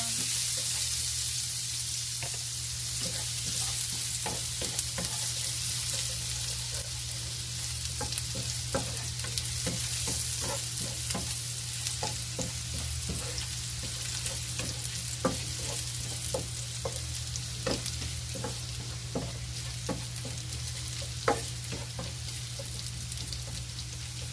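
Garlic sizzles steadily in a hot pan for a home-cooked Filipino dish, a constant frying hiss punctuated by frequent scrapes and clicks of a utensil stirring, close and alone with no talking.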